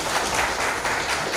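An audience at a civic gathering in Kohalpur claps in honour of a named person. The dense, fairly close applause swells and dips slightly over a short stretch, with no voices over it.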